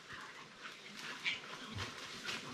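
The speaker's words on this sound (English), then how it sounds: "Good dogs." Dogs outdoors in the bush give soft, high whimpers and whines in a steady scatter, faint against a breezy outdoor background.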